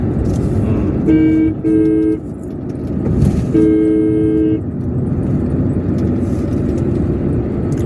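Car horn honking on a jungle road between Bhabanipatna and Raipur: two short toots, then a longer blast, loud and near over steady vehicle road noise.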